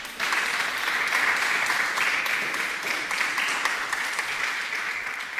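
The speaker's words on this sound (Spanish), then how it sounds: "Dele un aplauso al Señor." A church congregation breaks into sustained applause, a dense, steady wash of many hands clapping together that holds at full strength for several seconds with no break.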